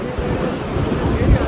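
Broad, steady roar of rushing water at Phungphunge waterfall, a continuous dense wash of noise with no voices, loud and close throughout.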